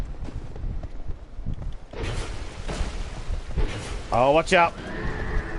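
A horse in Dark Souls 2 gives a loud, shrill whinny near the end, after thuds and swishing combat noise, while someone talks throughout.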